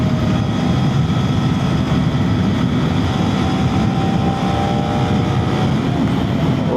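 KTM Duke 250 motorcycle cruising at night, a steady close engine drone with a faint whining tone under heavy wind rush, continuous and loud with no talking.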